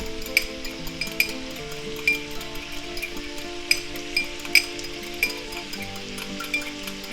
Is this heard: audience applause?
no